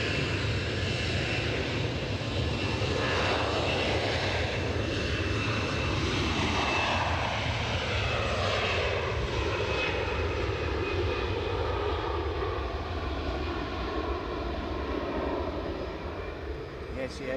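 An airliner taking off or landing at Edinburgh Airport, its engines roaring steadily and loud for the whole stretch with a slow sweeping drone, while people chat over it.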